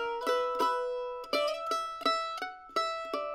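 A mandolin plays a phrase of a fiddle tune: about ten crisp picked notes and double-stops in a lilting rhythm, each ringing briefly. It is close and clear, with no talking.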